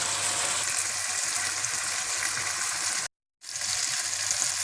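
Spice paste fried with a splash of water for moong masoor tarka dal sizzles in a pan with a loud, steady crackle, briefly cutting out before resuming.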